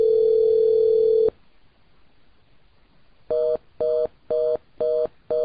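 A Cisco IP phone gives a steady electronic tone that stops, then after a short silence a run of evenly spaced electronic ringing pulses, clear and close with no voices.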